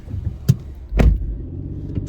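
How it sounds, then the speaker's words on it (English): Cars pass on a road, heard from inside a vehicle: a low rumble with a short whoosh near the start and a louder swell about halfway through. "Flipping cars everywhere."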